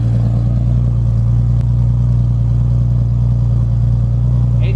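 A widebody Toyota Supra idles with a 4-inch titanium exhaust, giving a deep, steady, even drone that is loud and constant without revs, while a faint voice sits low in the background.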